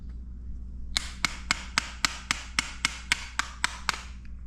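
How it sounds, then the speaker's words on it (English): Stuck brake pads on a 2009 Harley Dyna caliper get tapped out with a hammer, about twelve sharp, evenly spaced metallic taps that come close and clear over a low background hum. "She's a little stuck still, so we'll tap the other one out"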